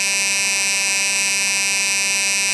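A reed-switch-driven pulse motor spins and accelerates, giving a loud steady high whine with many stacked tones, continuous and alone.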